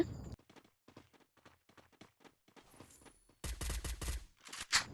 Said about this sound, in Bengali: তো আমরা এখানে এনিমির গুলির সাউন্ড পাই